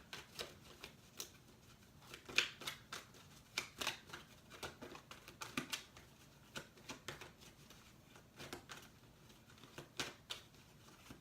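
Tarot cards handled and dropped: quiet, close flicks and soft slaps, irregular but steady throughout, each one short and crisp with no voices over them.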